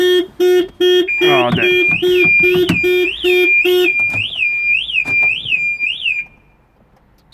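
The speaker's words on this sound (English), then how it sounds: "Obviously the alarm just went off" The alarm on a Porsche Boxster S 986 with a central locking fault sounds close by, first in loud repeated beeps, then in a rising and falling siren wail that cuts off, with a brief spoken remark over it.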